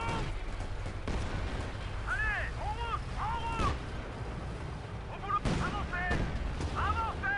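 Heavy tank destroyer cannon blasts in a Company of Heroes video game boom out twice over a dense battle din, with sharp bursts and scattered gunfire around them.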